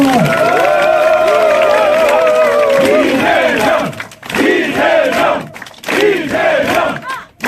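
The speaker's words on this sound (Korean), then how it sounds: "후보의 뜨거운 박수 부탁드립니다" A packed rally crowd at a Lee Jae-myung campaign event cheers and shouts loudly for the candidate, roaring voices and clapping that swell, briefly dip, then surge again in waves.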